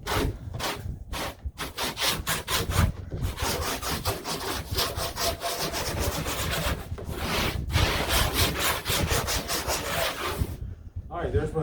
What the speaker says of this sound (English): I'm just going to take my sawzall now and trim right down through here and get rid of this piece